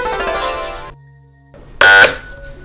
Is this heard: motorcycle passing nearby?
no